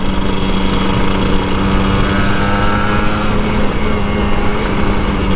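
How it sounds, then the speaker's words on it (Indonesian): A Kawasaki Ninja RR 150 two-stroke motorcycle runs loud and close during a night ride in Jakarta, its engine droning steadily with a constant buzzing tone and no clear surges, alone without voices. "Dan akhirnya kita tutup dengan ngegas bro."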